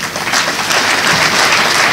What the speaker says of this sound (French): Merci d'applaudir encore une fois